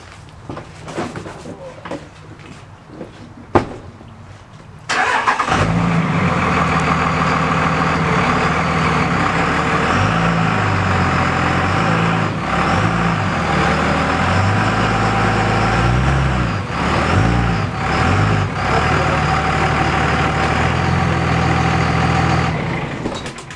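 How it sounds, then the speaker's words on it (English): An International truck's engine starts up and runs loudly at a steady idle for about twenty seconds, with a few brief clanks and a quieter stretch of handling noises before it. "Pull his truck ahead."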